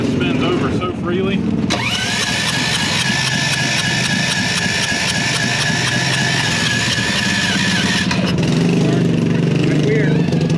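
A Predator 420cc small engine with no compression cranks over freely, a steady loud whirring spin lasting several seconds, with people talking nearby.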